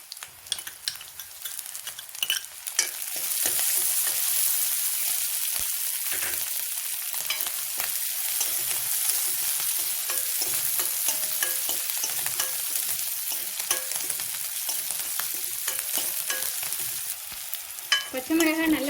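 Green chilies and onions sautéing in a hot pan, a steady bright sizzle with occasional stirring scrapes, close and continuous without talk.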